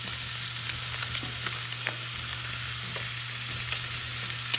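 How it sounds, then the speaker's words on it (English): Kerrygold butter sizzles and fries around a steak in a hot cast iron skillet, a loud continuous close hiss with faint crackles and a steady low hum beneath. "Now it's time to add some Kerrygold butter."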